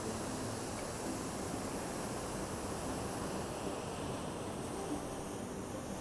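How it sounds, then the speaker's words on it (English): Calm ocean surf on a quiet morning, a soft, steady wash of waves with faint wind, low and even throughout, no voices. "So here I am at the ocean."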